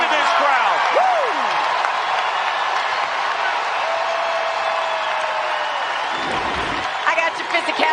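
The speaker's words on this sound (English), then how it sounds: "Listen to this crowd." Loud arena crowd at a women's college basketball NCAA Tournament second-round game, Stanford versus Ole Miss, roaring and cheering steadily after a defensive stand, with whistles and shouts rising throughout and a commentator's voice over it.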